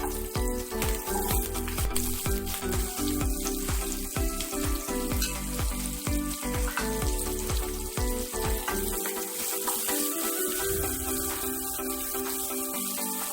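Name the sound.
onion, garlic and green chillies frying in oil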